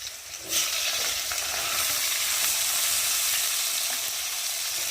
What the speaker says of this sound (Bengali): এই যে আলু দিয়ে ভালো করে ভেজে নেব